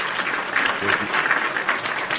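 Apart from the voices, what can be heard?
round of applause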